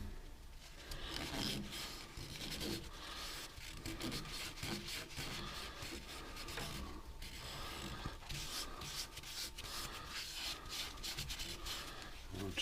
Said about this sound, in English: I've sanded the outside edge as well.